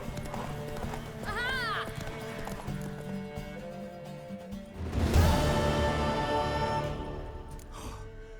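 A mare gallops in The Witcher 3: Wild Hunt, hooves pounding in a steady clip-clop under game music, with a short whinny early on and a louder surge of motion midway while a voice briefly exclaims.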